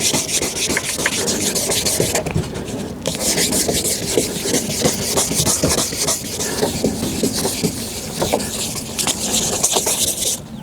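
Sandpaper rubs back and forth across a foggy plastic car headlight in steady, rhythmic scratchy strokes, close up and continuous, with a brief pause partway through.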